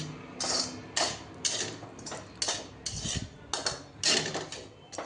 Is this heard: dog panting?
no